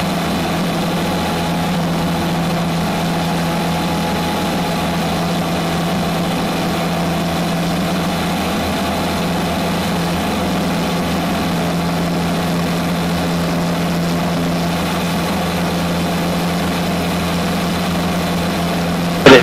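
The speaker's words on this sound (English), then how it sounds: "I think the O-235 is an ideal motor for this." A Zenith CH 750 Cruzer light aircraft with an O-235 engine drones loud and steady throughout, a constant propeller and engine roar with no speech over it.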